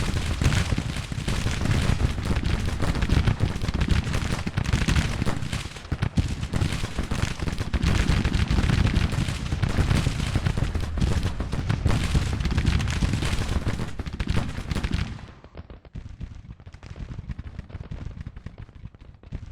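Massed musket volleys and cannon fire in the Civil War strategy game Grand Tactician: The Civil War, a dense, continuous roar of gunshots and booms for about fifteen seconds before thinning to scattered, quieter shots.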